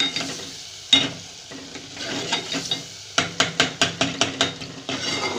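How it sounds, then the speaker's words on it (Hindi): Softened tomatoes fry in a pan on low heat and are stirred, giving a steady soft sizzle broken by sharp scraping strokes. A regular run of spoon-against-pan clacks comes near the end, all close up with no voices. "ये देखिए टमाटर सॉफ्ट हो गए। अब मैं इन्हें भून रही हूँ।"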